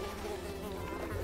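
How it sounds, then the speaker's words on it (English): A cloud of bees buzzing in the video game Unravel, a steady dense insect drone filling the short moment, close and continuous. "Oh, it attracted all the bees away."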